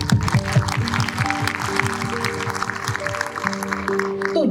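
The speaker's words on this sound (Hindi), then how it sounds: "बहुत बड़ी तालियां दी" Audience clapping together at a crowded Modicare motivational seminar in India, a dense, steady patter of many hands held at one level across the whole stretch, with some voices mixed in.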